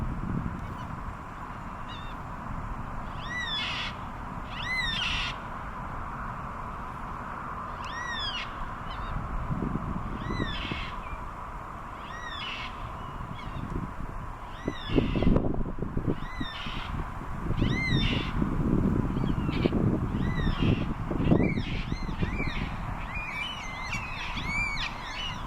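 Cockatoos give repeated harsh, screechy calls at moderate distance, scattered irregularly through a bed of steady outdoor noise and occasional rustling.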